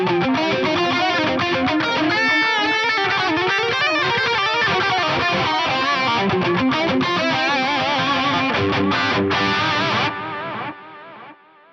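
Electric guitar lead line through a BOSS GT-1000 delay, warm repeating echoes trailing each note and fading out at the end, no talking.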